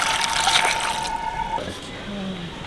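Water runs and splashes over cut brinjal in a bowl, a close, continuous pour with a faint tonal ring from the stream and a soft voice underneath.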